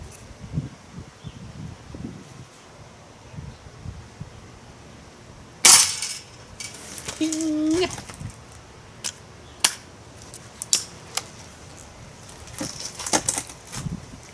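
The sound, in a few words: air pistol pellets hitting a metal spoon target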